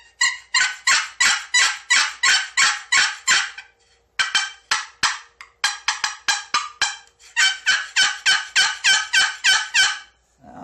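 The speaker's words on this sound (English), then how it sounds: "So here's the box call." A wooden turkey box call rasps out loud, rapid series of yelps and clucks in bursts of repeated strokes, separated by brief pauses, close and clear with no talking.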